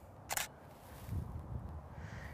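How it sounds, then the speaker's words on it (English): A single crisp camera shutter click from a test shot on a camera with its lens set to f4.0, one sharp snap followed by quiet room tone. "So now I'm gonna take another test shot."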